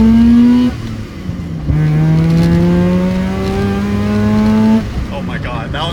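A Mazda RX7 FC rotary engine revs loudly up to its 8,000 RPM redline on a touge test run. The rising engine note climbs steadily, breaks off briefly to shift, then climbs again close to the microphone.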